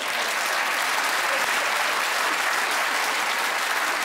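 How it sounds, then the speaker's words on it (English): A studio audience at a British comedy news panel show breaks into dense, steady applause, loud and continuous throughout with no let-up. "Can I just ask why you've applauded that?"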